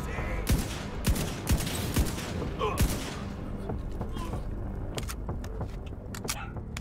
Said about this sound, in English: let's see if we can get some sniper shots into him.